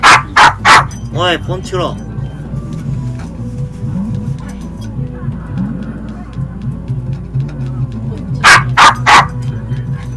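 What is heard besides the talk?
dog barking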